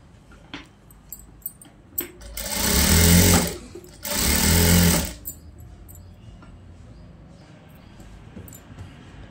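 A sewing machine stitches a fabric sleeve seam in two short, loud, close bursts separated by a brief pause, with light handling noises around them.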